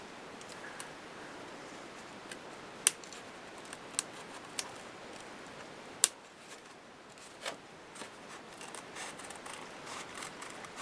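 Scissors cut around a paper card layer, with quiet snips and soft rubbing of paper, a few sharper clicks scattered among steady faint rustling, close up.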